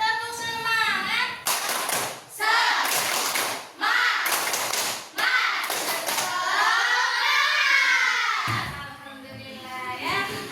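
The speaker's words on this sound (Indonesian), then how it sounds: "Bagaimana kalau kita tepuk semangat dulu?" A classroom of children performs a 'tepuk semangat' spirit clap, chanting together in a loud sing-song voice broken by sharp rhythmic bursts of group clapping.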